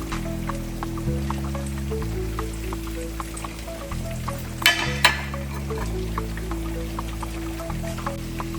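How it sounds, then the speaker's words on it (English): Yam fries bubble and sizzle in hot oil on medium-high heat, a steady crackling fry with scattered pops, under low background music and a couple of louder clatters. "it's been frying on medium-high heat for 12 minutes"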